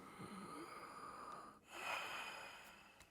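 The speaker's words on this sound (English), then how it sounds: "Breathe." Soft, close breathing from a character being examined by a doctor in Red Dead Redemption 2, a slow wheezy inhale and exhale over a faint background hum.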